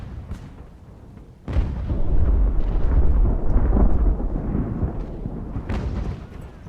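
Mortar fire strikes in the naval strategy game Ultimate Admiral: Age of Sail, a loud booming impact that swells into a long rumbling roar, with a second blast near the end.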